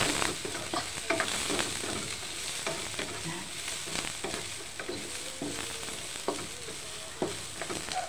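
Cabbage and carrots are stir-fried in a pan for chicken sotanghon soup, a close sizzle broken by repeated scraping and tossing clatters from a utensil.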